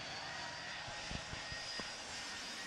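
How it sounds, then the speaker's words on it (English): An airplane flies low overhead, its steady broadband engine roar filling the whole clip at a fairly faint level, with a few soft low thumps beneath and no talking. "that plane's flying a little bit low,"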